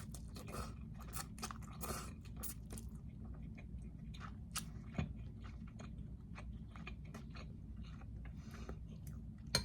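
Close, steady chewing and crunching of a protein ramen snack with extra vegetables and chicken, soft wet bites and crunches continuing throughout with no talking.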